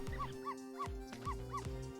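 Small cartoonish dog barks from the game Ghost Trick: Phantom Detective, five clipped yips in a steady rhythm with short gaps, over a continuous background music bed.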